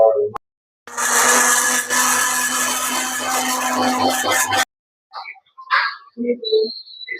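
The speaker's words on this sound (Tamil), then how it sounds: "பச்சை மிளகாலாம் போட்டு சேர்த்து ஆடணுமே மிக்சியில் கிரைண்ட் பண்ணுறோம் ஃப்ரெண்ட்ஸ்" A kitchen mixer grinder whirs loudly for about four seconds while grinding green chillies, then stops abruptly, followed by a few faint clinks and a voice.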